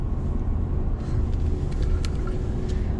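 A truck driving along a road, with a steady low engine rumble and road noise from inside the cab, unbroken and fairly loud throughout.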